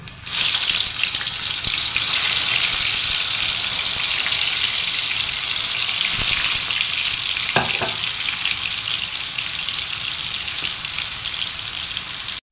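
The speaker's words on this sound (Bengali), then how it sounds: "এখন আমি একটা একটা করে পটলগুলোকে ভেজে নেব" Pieces of pointed gourd (potol) fry in hot oil in a wok, giving a loud, steady sizzle that fills the whole stretch, with a couple of brief utensil clicks near the middle.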